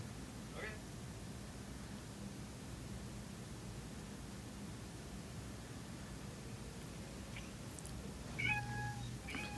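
A cat gives a couple of brief, faint meows, one early and another near the end, against a quiet hiss of background noise.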